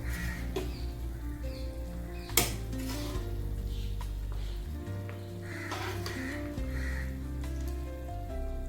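Oil-rich brinjal curry bubbles in a pan at a steady, dense simmer, with one sharp utensil clank partway through and no talking.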